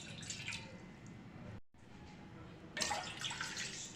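Two cups of water poured into a pot holding cinnamon, cloves and ginger pieces for winter qehwa: a faint, hissing splash that stops briefly, then resumes more strongly, close and quiet with no speech.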